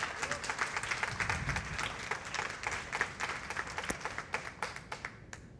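A church congregation applauds in a steady, dense wash of many hands clapping, moderately loud and sustained for several seconds before tapering into a few scattered final claps.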